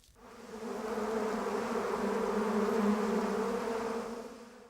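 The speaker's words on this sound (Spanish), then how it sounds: "Estos abejorros, por ejemplo, completamente inútiles en la naturaleza, han sido creados por un laboratorio holandés" Bumblebees bred in a Dutch lab buzzing inside a plastic greenhouse in Almería, a close, steady droning hum that swells in and fades out over a few seconds.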